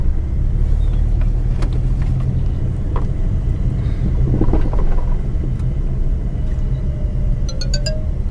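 A car rolls along smoothly during a driving lesson, its low steady engine rumble and road noise filling the interior, with faint clicks and a brief higher whine near the end, no voices.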